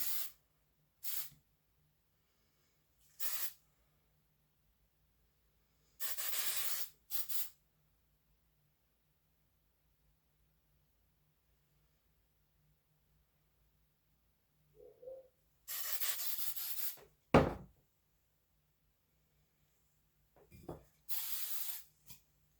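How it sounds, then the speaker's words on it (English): Hairspray hisses onto a vintage poodle's styled, pinned coat in several short bursts, some quick and a few longer, with quiet gaps between, close and fairly loud against a silent room. "what I'm going to go ahead and do now is add some hairspray so that everything kind of stays where I pinned it"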